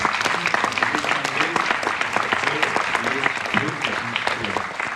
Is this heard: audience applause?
yes